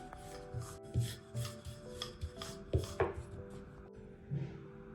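Flaxseed paratha dough rolled out with a rolling pin on a board, soft rhythmic rubbing strokes with occasional light knocks, close and quiet, no talking.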